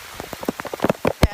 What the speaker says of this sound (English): It's like a hard rain too.